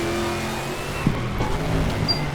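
Group 5 Greenwood Corvette race car in a racing video game, its engine holding a loud, steady roar under load with a sustained high tone, a brief tire chirp midway and a gear-change shift in pitch.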